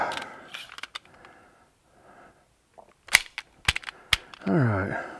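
Springfield Armory Champion Operator .45 ACP pistol firing outdoors, several sharp cracking shots spaced unevenly, loud and close, with a brief stretch of talking before them.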